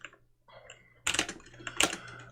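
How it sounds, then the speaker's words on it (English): Close computer keyboard typing during live coding: a few soft scattered key taps, then two dense bursts of rapid clicking. "Why am I typing this out?"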